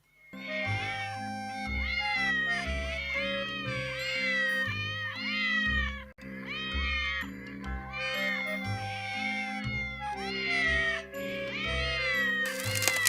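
A cat in a video game meows over and over for several seconds, with loud, drawn-out, wailing cries that come in close succession and sometimes overlap.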